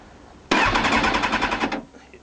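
A Kawasaki ZX6 motorcycle with a faulty alarm and immobiliser cranks over on the starter for about a second, a loud, rapid, rhythmic churning that stops abruptly without the engine catching.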